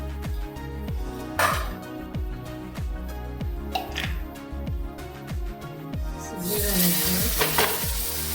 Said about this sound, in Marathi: मिक्सरला बारीक केलेली पेस्ट घालूया याच्यामध्ये